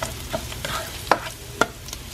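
Onion, garlic and ginger sauté in a pan, with a soft sizzle under several distinct scraping stirs of a spatula, each a short clatter spaced about half a second apart.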